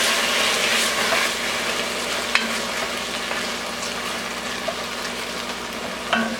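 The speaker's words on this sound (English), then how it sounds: "We're going to mix this all up" Diced roasted tomatoes being stirred into a pot of lentil soup, a continuous close sizzle and wet bubbling with a few sharp scraping clicks of the spoon against the pot.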